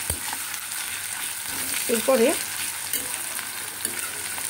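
Garlic with dried and green chillies frying and being stirred in hot oil for a loita fish dish, a soft steady sizzle with brief scraping stir sounds and a single spoken word.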